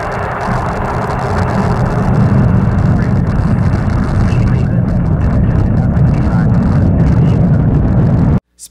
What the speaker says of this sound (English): And liftoff. The Falcon takes flight